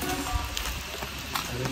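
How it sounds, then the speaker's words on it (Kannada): Heavy rain falling in Nagarahole, Karnataka, India, forming a dense, steady hiss of drops that continues without pause. "ಸಿಕ್ಕಾಪಟ್ಟೆ ಮಳೆ."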